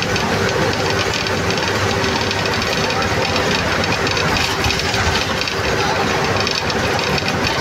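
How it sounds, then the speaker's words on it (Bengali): A motorcycle engine pulls hard on a Bangladeshi highway between Mawa and Dhaka, its steady, loud roar blending with road and wind noise for the whole stretch without a break. "মোটর সাইকেলটি খুব টানে আছে।"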